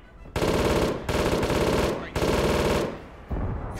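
Bursts of automatic gunfire from ArmA 3: three loud, sustained volleys of rapid shots with short pauses between them, then the start of a fourth.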